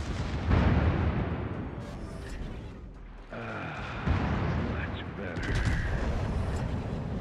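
Main guns of the Italian Tier IX battleship Lepanto in World of Warships boom in heavy, rumbling salvos, several deep blasts and long explosive roars across the stretch, loud and close, with a voice talking over them.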